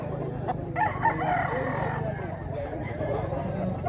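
A rooster crows at a gamefowl expo in Mantalungon, Barili, Cebu, amid a noisy crowd of chattering voices, the call partly buried under the steady babble.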